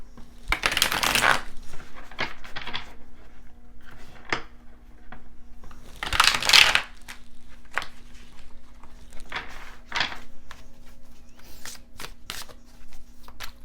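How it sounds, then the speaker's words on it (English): Hermit Tarot cards being shuffled by hand close up, two loud riffling bursts with quieter card flicks, taps and slides in between, no talking. "Let's also pull some cards from the Hermit Tarot."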